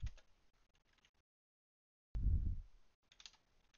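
Typing on a computer keyboard, a few quiet scattered keystrokes, then a pause and a louder close thump followed by more light clicks.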